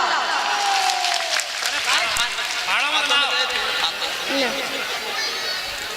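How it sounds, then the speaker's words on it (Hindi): Loud audience clapping at a Hindi devotional storytelling event, a dense steady wash of applause mixed with crowd chatter and voices, continuing throughout. "जोरदार तालियां बजाओ।"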